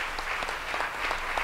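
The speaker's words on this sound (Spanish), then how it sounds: "un aplauso para los cuatro expositores" A short, soft round of applause from the audience at a pension forum in Costa Rica for four speakers, with steady scattered clapping of moderate density heard from a little distance.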